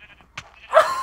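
A single short sheep bleat from Minecraft rises after a brief click, close and clear against near silence.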